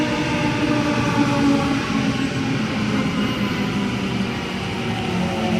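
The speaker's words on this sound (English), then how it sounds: "We have ourselves a Waratah Series 1 now arriving on platform number 2, Leppington service." A Waratah Series 1 electric train arrives at platform 2 at Yennora station at dusk, giving a steady, loud rumble and hum that stays near and even throughout.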